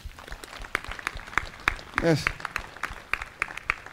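Members of a church congregation clap together during a worship service with a prophet, the sharp claps spaced in a loose, steady rhythm. A voice briefly speaks over them.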